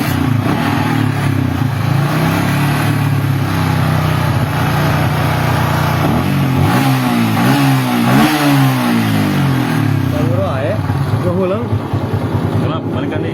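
A Yamaha Vixion motorcycle with a sputtering engine and a headlight fault starts and idles loudly up close, then revs in rising and falling surges, with someone talking over it.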